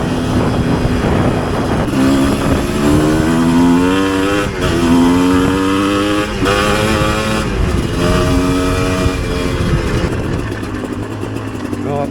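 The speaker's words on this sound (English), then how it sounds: "My first time on a dirt bike for a long time." A Chinese dirt bike engine runs steadily while being ridden off-road on dirt, its pitch climbing and dropping as the throttle changes. The engine note is loud and close throughout, with wind noise over it.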